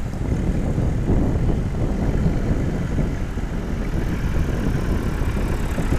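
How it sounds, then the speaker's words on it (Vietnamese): Tractor engine running steadily at the shore of a seaside fishing hamlet in Long Hải, pulling a round basket boat up onto the beach; a continuous, fairly loud mid-pitched drone with no pauses and no talk. "Rồi chiếc xe máy cày này xuống kéo thúng lên."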